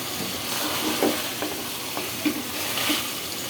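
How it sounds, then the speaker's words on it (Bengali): Rui fish curry with potatoes and drumsticks being stirred in a pan as its liquid cooks down, a gentle close sizzle with several soft spatula scrapes and taps. "আর একটু নাড়াচাড়া করে নিচ্ছি এখন এখানে আমি দিয়ে দেব টমেটো কাটাগুলো"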